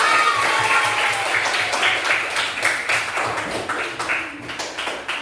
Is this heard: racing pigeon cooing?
no